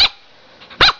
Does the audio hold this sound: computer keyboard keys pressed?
no